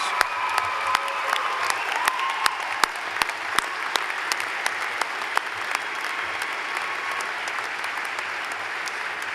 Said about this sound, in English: the students, to acknowledge their family and friends with a round of applause